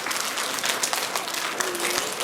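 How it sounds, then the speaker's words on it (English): At a school assembly, a crowd claps for the math award winners, dense even applause from many people sustained without pause across the brief moment. "let's give a big round of applause to all of our math award winners"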